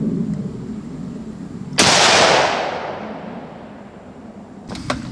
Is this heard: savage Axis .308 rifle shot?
yes